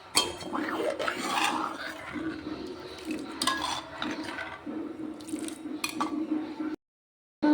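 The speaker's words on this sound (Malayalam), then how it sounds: "ഇനി നമുക്ക് 2-ാം പാല് ചേർത്ത് കൊടുക്കാം." Second coconut milk pours into jackfruit payasam sweetened with jaggery, a soft continuous liquid splashing and trickling close by, with a hum underneath and brief quiet rustles before a short silence.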